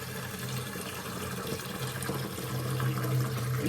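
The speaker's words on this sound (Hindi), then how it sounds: "बर्तन निकालने के बाद में मैंने इसमें पानी भर लिया" Water runs steadily from a tap into a cooking pot, a continuous rushing hiss that rises slightly in pitch as the vessel fills, with no voices.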